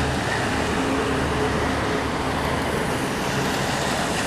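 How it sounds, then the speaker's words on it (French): Steady broadband traffic roar on Boulevard Moussiri in Lubumbashi at night, a continuous wash of passing cars and heavier vehicles with no distinct pauses, moderately loud and without voices. "la circulation ne s'est pas arrêtée sitôt"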